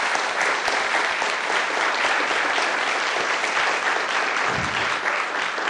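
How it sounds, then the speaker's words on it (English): An audience at a city council candidate forum gives a round of applause for the candidates and moderator, dense, close clapping sustained for several seconds. "I invite you to join me in giving a round of applause to our candidates and to our moderator"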